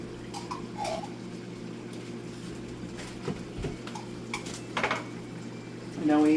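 A utensil stirs tomato paste into pasta in a cooking pot, making soft scraping and clinking against the metal over a steady kitchen hum, with faint voices in the background.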